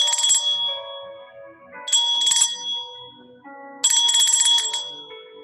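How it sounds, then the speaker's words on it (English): A hand bell is rung three times during a meditation, each ringing a bright, shimmering burst that decays into a lingering tone before the next one. "I ask you on 3 to go ahead and ring your bell"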